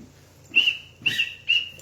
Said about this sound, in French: On va siffler doucement.